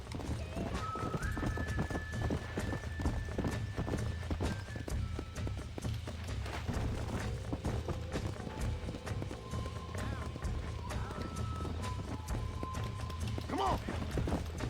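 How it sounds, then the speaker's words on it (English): Horses' hooves clip-clop at a run in the Western video game Red Dead Redemption, rhythmic and steady with occasional whinnies, under character voices and background music. "These are fine horses."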